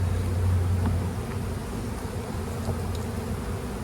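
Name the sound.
honeybees buzzing at an open hive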